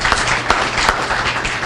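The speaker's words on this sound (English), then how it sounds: "if we can give him a round of applause" Audience applause at a public event, a steady wash of many hands clapping close by for under two seconds, loud and dense with no pauses.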